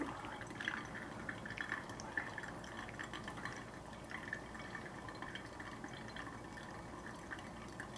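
Water running through a V60 pour-over coffee filter, a faint, steady trickle and patter of drips into the vessel below, soft and continuous without speech.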